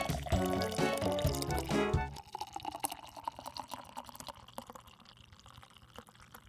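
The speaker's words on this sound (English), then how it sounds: "Literally me just pouring a soda." Soda poured into a glass, starting with a short musical passage over the pour and then a steady fizzing trickle with small crackles, fairly quiet and close.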